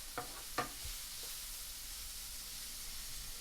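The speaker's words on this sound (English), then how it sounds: "you're going to just sit and watch the onions cook" Onions cook slowly in a pan, giving a faint steady sizzle with a couple of soft utensil taps near the start.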